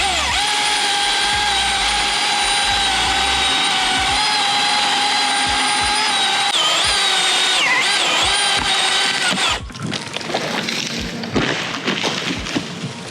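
A Milwaukee chainsaw cuts into a decayed tree, its engine roaring loud and close for most of the clip, then dropping to a rougher, lower idle near the end.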